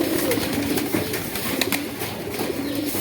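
Pigeons preparing nests to lay eggs coo in low, repeated throaty calls close by, over a busy background with a few sharp clicks and brief rustles.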